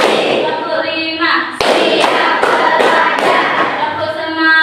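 A class of students claps hands together in a counting rhythm, sharp unison claps landing roughly every half second in a steady pulse, loud and close, with children's voices chanting over the claps.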